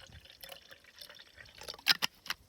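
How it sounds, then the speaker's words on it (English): Cold water is poured into a 12-volt BlissBlender Pro blender jar for a smoothie, giving soft trickling and a few sharper splashes and drips, quiet and close. "My smoothie will be consisting of cold water. Pouring that in."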